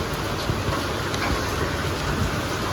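Steady mountain rain pours without pause during a red-alert downpour, a dense, even hiss that holds unchanged from start to finish with no voices.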